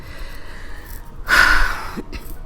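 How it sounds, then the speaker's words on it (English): A single short, breathy throat clearing from a person close to the microphone, a quick rough burst of under half a second against quiet background noise. "I had to clear my throat."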